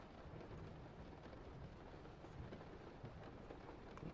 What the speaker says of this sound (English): I didn't have the rain on this whole time.